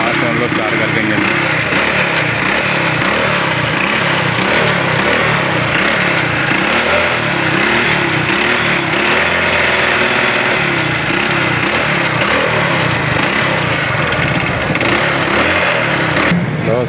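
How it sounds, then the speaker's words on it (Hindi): A kick-started motorcycle, checked by a mechanic, runs steadily and loudly for the whole stretch, its engine chugging close by in a continuous rough idle with no pauses. "हम किक मार के स्टार्ट कर दें। तो जनाब मोटरसाइकिल हो गई स्टार्ट, आवाज़ सुन लो स्टार्ट करके इंजन"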